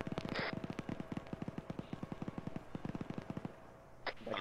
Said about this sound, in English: I'm drawing heavy fire bearing 310. I think that's some type of APC or a machine gun.